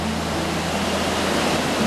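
Thi Lo Su waterfall thunders as its water crashes onto the rocks, a loud, steady, close-up roar with no pauses and no voices.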